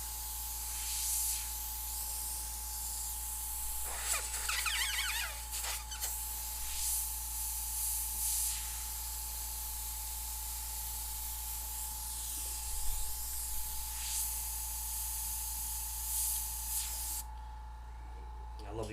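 An airbrush sprays paint with a continuous soft hiss and short stronger bursts, steady over a low electrical hum, with a voice talking in places.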